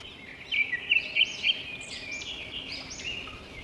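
A small bird chirping close by, a quick run of high thin tweets in the first second and a half, then softer calls over a quiet background.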